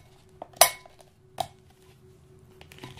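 Microwave-heated rice is tipped into a bowl, giving a few sharp clinks and knocks of dishware spread over about three seconds in a quiet kitchen.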